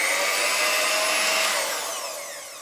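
Electric cake mixer whirring steadily as it mixes mould material with water, a high motor whine held close for under two seconds before it eases off slightly.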